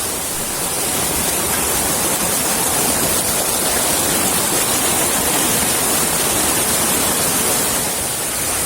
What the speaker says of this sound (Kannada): ಇದು ಕಿಡಿಲಾಯನ ಜಲಪಾತ